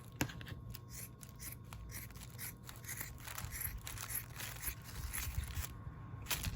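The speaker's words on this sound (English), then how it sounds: "I'm just going to cut through the 2 layers" Scissors cutting through two layers of fabric for a Simplicity 8797 coat: a close, quiet, steady series of crisp snipping and rasping slices that repeats at a rhythmic pace.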